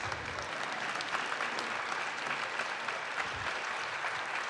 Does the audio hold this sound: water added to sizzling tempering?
no